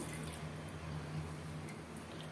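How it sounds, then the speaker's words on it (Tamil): A steady, quiet rush of measured water pouring continuously into a pot for basmati rice biryani, with a faint low hum underneath and no voices. "ஒன்றுக்கு ஒன்றரைங்கிற தண்ணி அளந்து வச்சுருக்கேன் இப்போ அதை இதில் ஊற்றிடலாம்"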